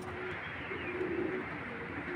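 Racing pigeons coo softly in a low, throaty murmur that swells in the middle, over a constant background hum.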